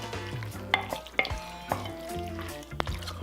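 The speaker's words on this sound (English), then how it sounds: "About 1 tablespoon of Worcestershire sauce. I'm using Liam Parent's. Go ahead and give this a quick mix." A spoon works through sloppy joe mixture with Worcestershire sauce, giving a run of close, wet scraping and clinking strokes at an irregular rhythm over a faint low hum, with no talking.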